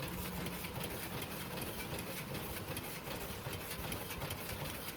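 A high-speed melon seed packaging machine running at 150 packs per minute gives off a steady mechanical hum with fast, even rhythmic clatter. The noise is constant and nearby, with no voices.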